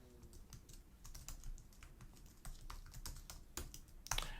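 Quiet, irregular clicking of a computer keyboard as a username is typed, keystrokes in quick uneven bursts with a sharper cluster of taps near the end.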